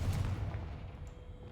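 A Confringo fire spell blast in the Hogwarts Legacy video game, fired at a pillar blocking the path: one loud, deep booming explosion that fades quickly.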